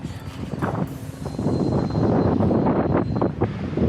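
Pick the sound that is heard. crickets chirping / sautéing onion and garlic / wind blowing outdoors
wind blowing outdoors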